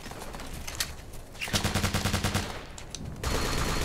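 Video game gunfire in Operation Flashpoint: Dragon Rising as an enemy soldier is shot, with a rapid burst of automatic fire in the middle followed by a louder sustained rattle, loud and close.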